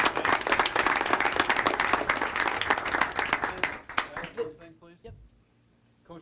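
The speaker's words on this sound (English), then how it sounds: "Let's give them a round of applause." An audience applauds at a governing board meeting, dense clapping that fills the room for several seconds, then thins out and fades, with a voice speaking briefly as it ends.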